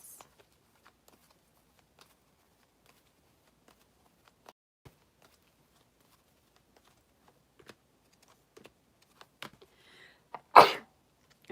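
One sharp, loud sneeze bursts out near the end of a mostly quiet stretch, preceded by faint scattered clicks and taps, from a person suffering allergies indoors.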